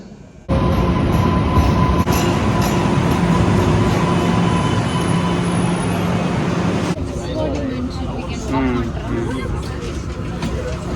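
A subway train's loud, continuous rumble and roar fills the space after a sudden onset, steady and close, with a faint babble of voices and some squealing toward the end.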